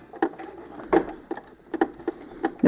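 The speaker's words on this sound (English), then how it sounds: "Now don't tug at all, let the machine feed through." A sewing machine stitches Velcro onto doll clothes in short, separate mechanical bursts with quiet gaps between them, close and fairly loud.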